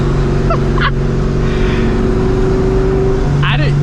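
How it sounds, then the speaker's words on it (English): A supercharged New Edge Mustang GT drives through a highway tunnel in Texas. Its engine is a loud, steady, booming drone that echoes off the tunnel walls, with brief higher squeals and honk-like tones over the top. "You don't realize how fucking loud these cars are until you hit a tunnel in Texas."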